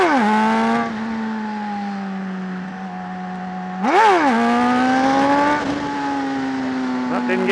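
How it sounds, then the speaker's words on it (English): Motorcycle engine revving loudly and steadily through a wheelie, pitch rising sharply in a burst midway and again later, with gear-like shifts in tone. "Let's get another wheelie here."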